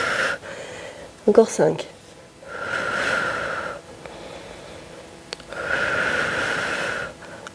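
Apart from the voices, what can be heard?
breathing in and out during power yoga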